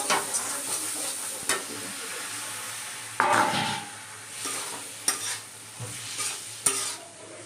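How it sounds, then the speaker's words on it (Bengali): Spice paste fries in oil for a shrimp curry, a continuous close sizzle broken by several sharp spoon scrapes against the pan, one louder burst of spattering partway through. "দেখো, তেল বেরাতে শুরু করে দিয়েছে। সুন্দর করে এবার নাড়বো।"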